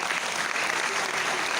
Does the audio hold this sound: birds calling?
no